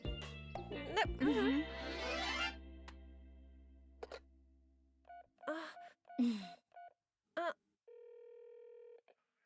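A telephone number is dialed for a call in an animated French children's episode: after a stretch of voices and music, a quick run of separate keypad tones beeps out, followed by a steady held tone.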